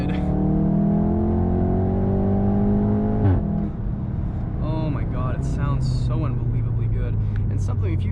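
A Mk7.5 VW Golf R with a Remus valved catback exhaust pulls hard under acceleration, its engine note climbing steadily before a sharp shift break, then droning on while a person speaks over it from inside the car.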